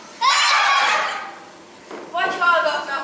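On a student theatre stage, a person imitates a horse neighing with two loud, wavering whinnies, the first long and the second shorter, separated by a brief breathy pause.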